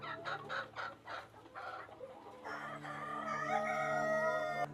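Kadaknath chickens cluck in a series of short, quick notes, followed by longer drawn-out calls from the flock on a poultry farm in Sri Lanka, faint and a little distant.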